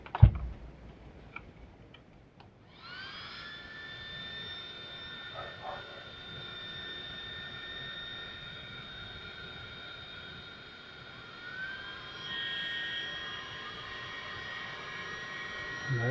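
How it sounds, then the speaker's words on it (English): Cooling fans on an Arrma Senton V3 3S RC truck whirring steadily at a high pitch after powering up, close and continuous with a slight change partway through. "I do need to toss a battery in it to see which direction those fans are spinning"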